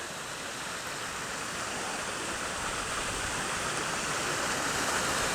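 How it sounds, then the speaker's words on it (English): Water at a pond in the Overland Park Arboretum gives a steady, even wash of splashing, like a small fall or fountain, constant and moderately loud with no voices over it. "Nice pond here."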